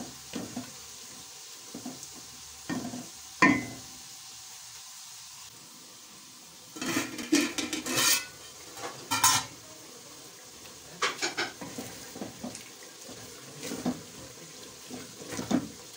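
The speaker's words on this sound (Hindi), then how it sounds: "ये 5 मिनट हो गए भूनते हुए। अब इसमें हमें थोड़ा सा पानी शामिल करना है ताकि फलियाँ और कीमा अच्छे से जो ना गल जाए" Keema and green beans frying in a pan after water is added, with intermittent sizzling bursts, stirring scrapes and clinks of a utensil against the pan, close and moderately loud with quiet gaps between.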